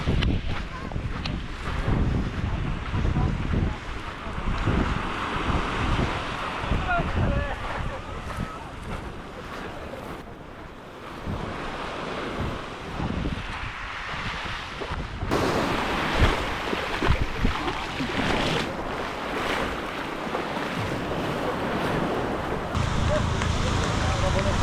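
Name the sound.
Greek sea waves and wind at Varkiza beach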